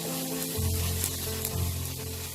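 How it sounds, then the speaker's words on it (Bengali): Bengali masala spice paste fries in oil for a traditional hilsa-style boal fish curry, a steady close sizzle with faint stirring scrapes throughout, no voices. "এটাকে আমি আরো কিছুক্ষণ কষিয়ে নেব"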